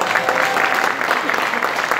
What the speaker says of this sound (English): So a special applause for you guys tonight.